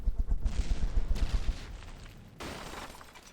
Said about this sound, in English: Gatling cannon's decided to take on the casket.